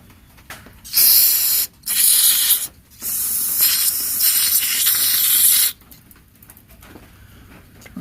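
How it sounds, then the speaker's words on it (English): Carburetor cleaner sprays in loud hissing bursts into a frozen check valve during repair of a Coleman 502 stove: two short blasts, then one long sustained spray, close up, with quieter handling noise between. "So we're going to take this carburetor cleaner,"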